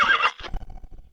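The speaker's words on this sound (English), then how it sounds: "Another horse has been run to exhaustion." A horse exhausted from hard riding lets out a short, loud, shrill whinny that breaks off into a few low snorting huffs, alone and close.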